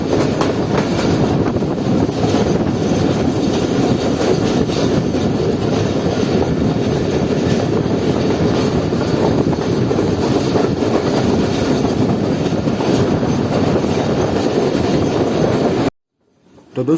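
Awam Express train rolling along the tracks near Rohri Junction in hilly terrain, recorded from inside a Lower AC coach: a loud, steady rumble with faint rhythmic wheel clatter throughout, cutting off abruptly near the end.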